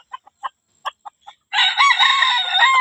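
A labuyo, the Philippine jungle fowl rooster, gives a series of short clucks, then lets out a loud, close, sustained crow.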